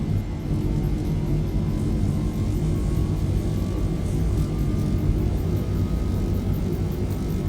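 Aircraft engines drone steadily and loudly inside the cockpit during the takeoff roll, a constant low rumble with faint rising tonal whine and no speech.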